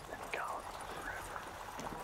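Horses gallop away in a video game with a quick clip-clop of hooves, fairly faint beneath a talking voice.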